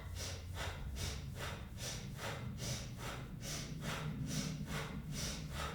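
Rapid rhythmic breathing exercise from a yoga routine, quick forceful nasal exhalations pulsing about twice per second, close and steady, with no speech.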